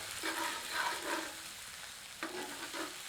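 Fresh ground ginger-garlic paste frying and being stirred in a pan over medium heat while cooking dry chana dal, giving a steady close sizzle with a few scraping stir strokes.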